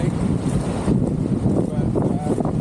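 Wind gusts buffet the microphone on a misty, damp hiking trail in Iceland, a continuous low rumbling roar that swells and dips, with a voice faintly present beneath it.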